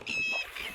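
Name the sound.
bird calling loudly at dusk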